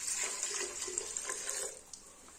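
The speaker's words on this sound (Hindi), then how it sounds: "3 कटोरी बराबर में पानी डाल दियो।" Water is poured into a pressure cooker holding dal, a close, continuous splashing trickle that fades off near the end, with no talk over it.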